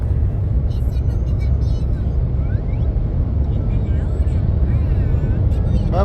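A slow truck rolls past on the road, a loud continuous rumble of engine and tires close by, with people talking faintly over the steady drone.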